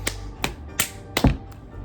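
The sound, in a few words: hand hitting against an object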